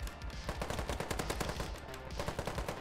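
Rapid automatic fire from an AK-74M rifle in the shooter game Ironsight, a steady close burst of sharp repeated shots running the whole stretch with no talk.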